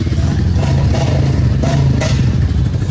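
A Royal Enfield Classic 350 motorcycle pulls away, its thumping single-cylinder engine loud and close with some clatter, amid steady background noise.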